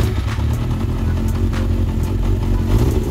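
A Yamaha XJR400 motorcycle engine runs with a steady, loud, close rumble and clattery mechanical texture, no voices over it.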